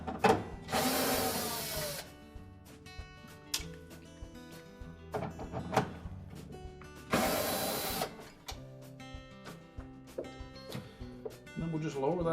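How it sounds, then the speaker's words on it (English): Mounting screws come out of a Whirlpool refrigerator's defrost timer control housing, with two bursts of whirring power driver spinning plus scattered clicks and clanks of handling between them. "So now we can take the two mounting screws out."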